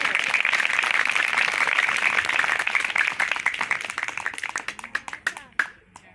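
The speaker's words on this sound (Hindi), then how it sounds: "उस यस्सु के लिए जोरदार ताली।" Loud, dense applause fills a church during a Christmas sermon, then thins out into scattered individual claps that fade away.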